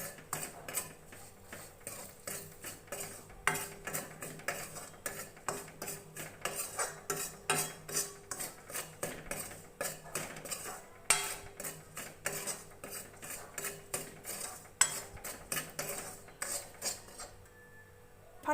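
A spoon scrapes and clinks rhythmically against a pan while stirring a sooji and besan mixture with ghee over medium heat, rapid repeated strokes close by with no talking.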